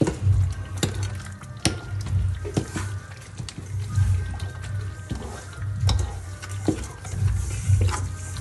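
Ground pistachios, almonds and cashews tipped into a frying pan and mixed, giving soft repeated scraping and shuffling with light patter, close and moderately loud, with occasional sharper clinks from the pan.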